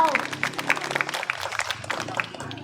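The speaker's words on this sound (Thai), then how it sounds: "เสียงปรบมือนะเจ้าสร้างความภาคภูมิใจให้กับน้องๆที่เข้าร่วมการ แข่งขันทุกคนนะเจ้า" Scattered audience clapping for contest participants at a Buddhist relic-bathing temple festival in Chom Thong, with irregular, distinct claps at moderate volume over a murmur of crowd noise.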